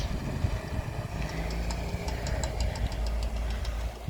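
An ice cream truck's engine idles steadily nearby with a low, continuous rumble and faint knocking, while light ticking sounds come and go above it.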